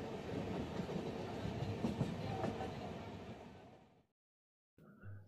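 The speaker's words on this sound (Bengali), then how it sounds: "বেনারস থেকে আমরা এটা পাটনা কোটা ট্রেন ধরে আমরা মথুরার দিকে যাচ্ছি।" Inside the Patna–Kota passenger train heading to Mathura, a steady rumble with rhythmic wheel clatter fills the cabin, fades out abruptly, then briefly returns.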